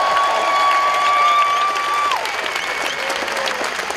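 Pilgrims applaud the Pope at the start of a pilgrimage, a dense, steady crowd clapping that sounds loud and close and carries on throughout, with a sustained tone fading under it midway.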